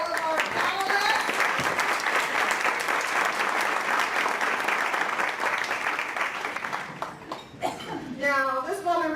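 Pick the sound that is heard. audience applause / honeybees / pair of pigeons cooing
audience applause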